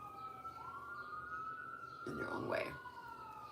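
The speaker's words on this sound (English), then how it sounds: "If you guys hear the sirens, I just will let them pass" Emergency vehicle sirens pass outside, a rising and falling wail that swells in the middle and then fades, heard under someone speaking softly indoors.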